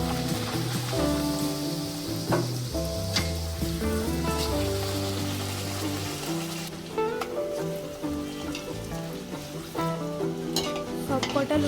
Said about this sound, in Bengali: একই রকম ভাবে সবগুলো ভেজে নিচ্ছি।